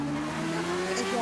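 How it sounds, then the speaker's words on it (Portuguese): A truck passes by in the GTA V video game during a roleplay police chase session, a steady low engine drone with tonal hum running close and continuous for a moment, with a voice talking over it. "passou o caminhão aqui."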